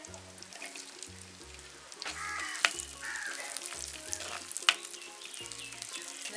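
Garlic dropped into hot sesame oil frying with a soft, steady sizzle, with a few sharp clicks and bird-like caws over a repeating low musical background.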